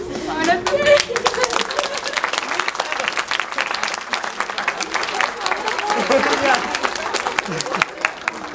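An audience claps warmly for Lauren at a senior project presentation, a dense sustained round of applause with some voices mixed in, fairly close and steady throughout.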